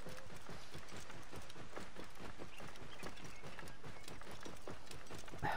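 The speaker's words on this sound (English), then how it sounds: "Giddy up, camel." A camel runs in Assassin's Creed Origins, its hooves drumming in a quick, steady, even rhythm, fairly faint and continuous throughout.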